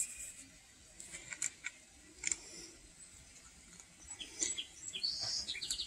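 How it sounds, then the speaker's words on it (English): White-crowned sparrow song sounds outdoors as a few bright, faint chirping phrases, with fuller song building toward the end over a soft background hiss. "It's a white-crowned sparrow. Beautiful. Beautiful song."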